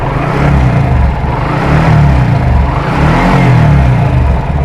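A Suzuki Gixxer SF motorcycle engine idles and is revved up and down, with a loud steady low rumble that swells with each blip of the throttle, close by and with no talking.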